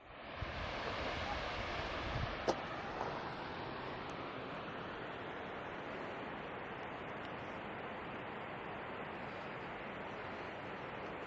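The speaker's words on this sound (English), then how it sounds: "There's the waterfall that trickles down from Crypt Lake." A waterfall trickling down from Crypt Lake in Waterton Lakes National Park makes a steady, broadband outdoor wash with wind, continuous and moderately distant throughout.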